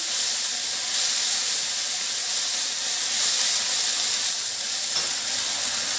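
Onion paste hits a hot pan and sizzles steadily, a bright continuous hiss of frying that holds an even level throughout without pause.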